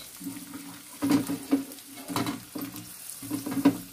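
A large onion frying in a pan crackles and sizzles in short, uneven bursts, as if stirred, with a low steady hum behind and quieter gaps between the surges.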